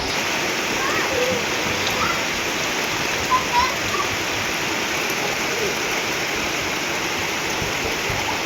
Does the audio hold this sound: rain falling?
yes